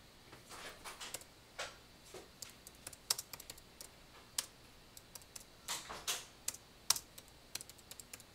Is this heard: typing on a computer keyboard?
yes